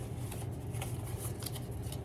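Four paper allele cards are shuffled by hand in a soft, continuous papery rustle lasting a couple of seconds.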